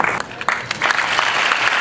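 Applause from the audience at a drug awareness event, a steady wash of clapping lasting about two seconds with a brief dip partway through and no clear talk over it.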